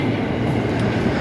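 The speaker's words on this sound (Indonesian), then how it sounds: "Sepertinya ada suara KRL datang." An electric commuter train (JR 205 series KRL) arriving at a station, rumbling loudly and steadily close by, a continuous low roar of rolling wheels with no talking.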